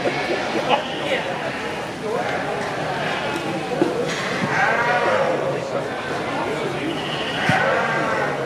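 Rambouillet rams bleat in a sale show ring, a few drawn-out wavering calls near the middle and end, under continuous announcer talk and crowd murmur.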